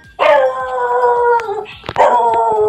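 A dog lets out two long, loud howling barks close by, drawn-out and wavering, with a short pause between them.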